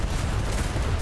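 Port side cannons open fire in the DarksideRP naval battle, a brief, dense, loud rumble of overlapping heavy gunfire close at hand.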